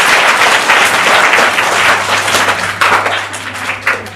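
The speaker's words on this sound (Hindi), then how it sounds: "चलिए जोरदार तालियां हो जाएंगी भाई" Loud, sustained applause from a crowd at a school game-show event, dense clapping that carries on steadily for over four seconds with a low hum underneath.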